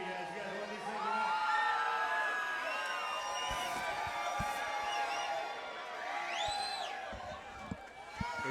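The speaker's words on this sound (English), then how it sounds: "The official voice of the NFA, Mike Kendall, throwing out these shirts, getting this crowd riled up." A fight-show crowd at Nemesis Fighting Alliance 8 roars steadily as free shirts are thrown to fans, with high whoops and shouts rising over the dense, continuous cheering.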